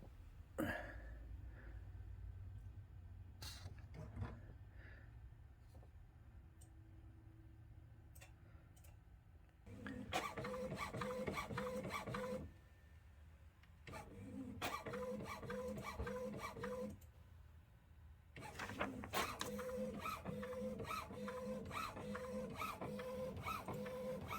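An HP 6520 inkjet printer runs through a print job, alternating soft ticking and clicking with louder bursts of rapid mechanical chatter from the moving print head, close and clear without voices.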